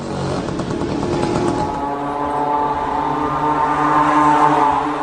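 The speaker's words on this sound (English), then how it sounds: "This is a small moped engine, or scooter engine sourced from China, at a cheap price." Small cheap Chinese moped or scooter engine powering an Iranian drone, a steady buzzing drone that shifts pitch partway through and holds loud and continuous throughout.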